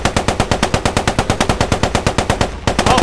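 A Cromwell tank's machine gun fires in the World War II shooter Post Scriptum: a loud, close, rapid burst of about twenty evenly spaced shots, pausing briefly before the rounds resume, with no voices.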